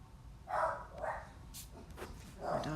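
A dog barks a few times indoors, short muffled woofs spaced irregularly, somewhat distant and fairly quiet.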